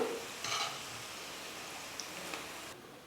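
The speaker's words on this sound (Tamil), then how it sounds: "இப்போ இந்த பூண்டையும் எண்ணெயில் போட்டு நம்ம ஃப்ரை பண்ணி எடுத்துக்கலாம்." Garlic fries in hot oil for a Diwali mixture snack, a soft, steady sizzle close by with a couple of faint clinks from the pan and no talking.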